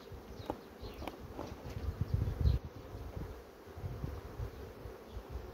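Honey bees buzz faintly around a hive entrance during hive work, a soft continuous hum with small handling knocks and rustles close by and no talking.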